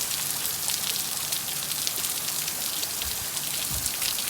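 Torrents of rain lash down in Hurricane Zeta's wind, a steady, loud patter and hiss on nearby surfaces broken by a couple of low thumping gusts toward the end.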